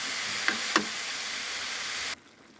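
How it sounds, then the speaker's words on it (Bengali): Red amaranth greens sautéing with green chili in a pan, giving a steady broadband sizzle with two brief stir knocks near the start before it cuts off abruptly. "লাল শাকটা আমি কষিয়ে নিলাম"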